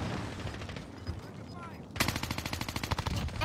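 Rapid automatic gunfire in the shooter game Warzone, a loud, fast, steady rattle of shots that kicks in abruptly midway after a quieter stretch of game sound and voice.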